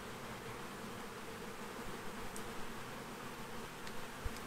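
Honey bees hum steadily from an opened hive during a brood inspection, a dense, continuous buzz close by with a few louder passes of individual bees near the end.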